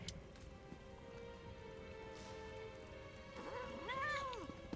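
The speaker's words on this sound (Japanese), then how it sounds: "猫よ。 レコンじゃない、猫よ。" A cat meows several times in The Elder Scrolls Online game, rising, wavering calls close by near the end over a steady background of game ambience.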